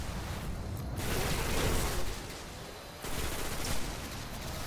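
Enemy gunfire in the Destiny video game, a dense, steady barrage of shots that continues for the whole stretch, loud and close, with a brief dip near the middle and no talk over it.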